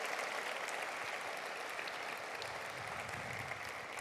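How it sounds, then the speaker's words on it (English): A large audience at a county government address gives a round of applause, a steady, even roar of many hands clapping that fills the whole stretch without talk. "Give them a round of applause for how they work"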